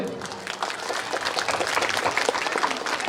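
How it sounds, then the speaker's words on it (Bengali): Applause from an audience at a farewell ceremony, steady and fairly dense throughout, with crowd noise mixed in. "হাততালি হবে।"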